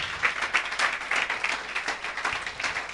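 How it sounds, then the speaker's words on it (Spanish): A church congregation claps along in praise of the Lord, a dense run of rhythmic hand-claps pulsing steadily throughout at moderate loudness with no voices standing out. "Aplaude al Señor, apláudele"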